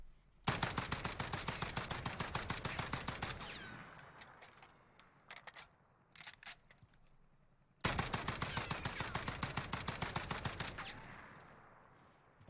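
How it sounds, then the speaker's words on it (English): An FAL rifle in Warzone is fired semi-automatically as fast as possible: two long strings of rapid, evenly spaced loud shots separated by a short lull with a few scattered clicks. "I'm going to be assuming that we're going to fire this as quickly as possible, single fire, like a traditional AR."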